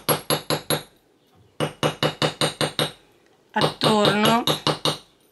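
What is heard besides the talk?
hammer tapping metal earring pieces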